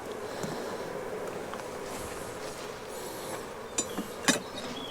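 A caught honeybee swarm on hive frames gives off a steady, dense buzzing hum throughout, with a couple of brief louder clicks or bumps near the end.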